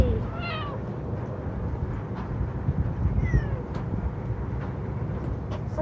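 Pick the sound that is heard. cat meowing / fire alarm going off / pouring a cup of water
cat meowing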